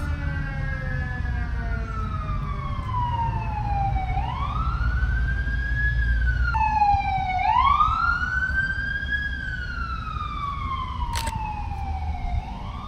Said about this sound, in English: Let me let this ambulance pass.